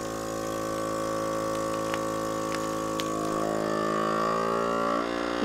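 An Avid Armor A100 vacuum sealer pulls air from a bag of high-moisture protein with a steady, loud motor drone and pump hum that holds even throughout, close by, with no speech.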